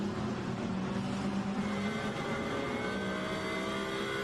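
A Lamborghini race car engine drones at high revs during a race at Imola, a dense, steady roar under broadcast commentary, with no distinct pass or change.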